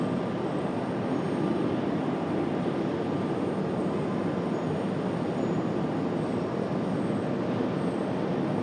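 A Frontier Airlines airliner at Raleigh-Durham International Airport gives off a steady, loud jet roar that holds constant without a break, heard from a distance outdoors.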